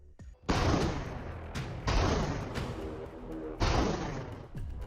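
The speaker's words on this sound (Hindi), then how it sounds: "रूसी तोपखाना आग उगल रहा है।" Russian artillery fires in the Ukraine war, three heavy booming blasts at irregular intervals, each loud and close with a long rumbling decay.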